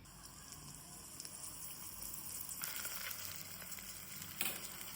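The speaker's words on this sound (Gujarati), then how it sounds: "હવે આપણે એને છસડવા દેવાનું છે." Stuffed bitter gourd, a Kathiyawadi bharela karela shaak, sizzles in oil in a pan with a soft, steady frying hiss and occasional crackling bursts, heard quietly and without talk.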